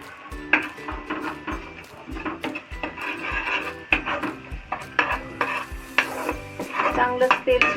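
Masala for egg curry frying in oil, with a spatula clattering and scraping against a metal pan in quick, uneven strokes over a soft sizzle, close and fairly loud, no voices.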